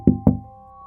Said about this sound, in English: The knocking continued.